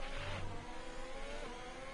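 An F1 car engine in F1 2020, driven with a broken front wing, whines at high revs with a brief low rumble early on, sustained and close without talk.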